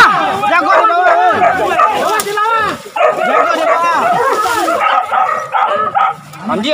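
A pack of hunting dogs barks and yelps loudly and continuously at a wild boar during a boar hunt, with frantic overlapping barks close by and people shouting underneath.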